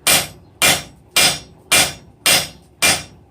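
A hammer strikes hot steel on an anvil while forging a bick iron taper, six sharp ringing blows in a steady rhythm about half a second apart, close and loud with short decays.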